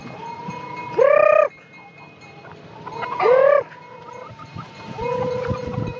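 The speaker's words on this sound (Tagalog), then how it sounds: "Ito, tinatawag ko sila ngayon. Yung mga manok ko." Loud chicken clucks and calls from gamefowl on a game farm, two strong bursts a couple of seconds apart and then a longer squawk, close by with farmyard background.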